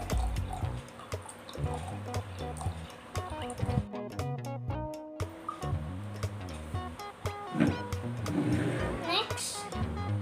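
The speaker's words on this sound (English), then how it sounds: "Pour the water in the jar." Water is poured into a jar for a rain cloud in a jar experiment, a close gurgling fill with rising bubbly pitch, broken by a brief pause before the pouring resumes.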